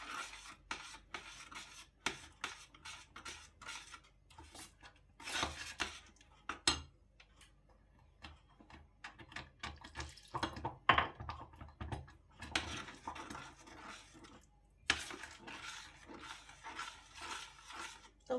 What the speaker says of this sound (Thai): ต้องกวนตลอดนะคะไม่งั้นเดี๋ยวมันจะติดก้นหม้อนะคะ